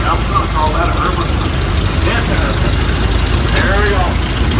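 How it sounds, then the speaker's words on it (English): Antique Case tractors, including a 600 Case, rumble past in a steam threshers' parade, a steady low engine drone that stays constant throughout while someone talks over it. "Bryce and Seth Hansen, uncle, driving through with the 600 case, ST case"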